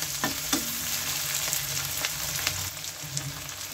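Freshly ground homemade spice paste sizzles and fries in a pan for dried Bombay duck curry, a steady close crackle with occasional sharper spits and stirring scrapes.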